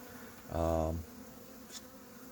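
A short burst of loud insect buzzing, honeybees from a shook swarm humming close by as they are hived, for about half a second, then a quieter hum of background noise.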